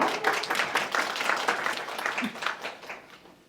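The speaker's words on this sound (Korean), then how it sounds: "박수를 한번 해주십시오" Applause from a forum audience welcoming a speaker: sustained, moderately loud clapping from many people in a hall, gradually fading toward the end.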